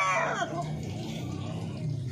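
Chickens on a farm give a burst of clucking at the start, then softer fowl sounds continue under faint background noise, close by and brief.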